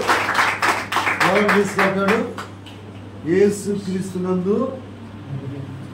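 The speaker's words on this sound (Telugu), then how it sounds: "చప్పట్లు కొడదామా?" A gathered audience claps at a church memorial meeting, a short burst of fairly sparse, close hand claps at the start before a man's speech takes over and continues alone.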